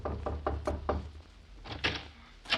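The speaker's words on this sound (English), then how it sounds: "See who's at the door, James." Knocking on a door as a radio drama sound effect: a quick series of hollow wooden raps, a short pause, then a few louder knocks, close up with no voices.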